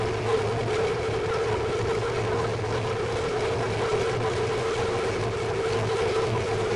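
A tank engine in war footage drones in a continuous, steady mechanical roar with a sustained whine, even in loudness throughout and heard alone.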